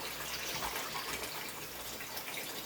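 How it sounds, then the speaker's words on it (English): Water pours in a continuous rushing stream into a cooking pot for rice, a steady splashing fill that lasts a few seconds with no talking. "So I added to my pot with 4 cups of water."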